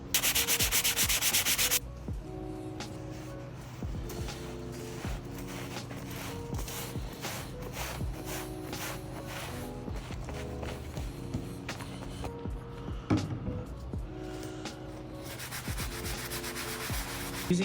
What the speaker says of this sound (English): give it a scrub down, and then follow up with a microfiber towel.